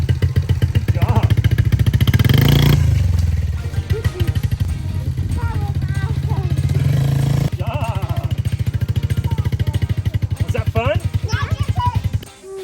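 A motorbike is ridden along a rural road in Western Australia, its engine running steadily close by for the whole stretch, with a rhythmic mid-range drone and people talking over it.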